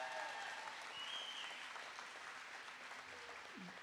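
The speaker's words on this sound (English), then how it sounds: "Clap for your babies." Graduation audience applauding for the graduates, a steady wash of many hands clapping that holds evenly throughout, with no voices standing out.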